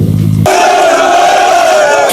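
Military recruit candidates shout and cheer one another on together before their final mandatory physical test, a loud, sustained crowd roar that bursts in abruptly and stays dense to the end.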